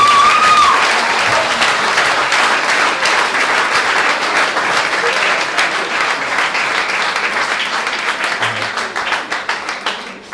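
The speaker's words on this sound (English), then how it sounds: "Ladies and gentlemen, another round of applause for Sarah Franklin, please." Loud, sustained applause from a room full of people for the winner of a UK chocolate-making championship final, dense clapping that gradually thins toward the end with individual claps becoming more distinct.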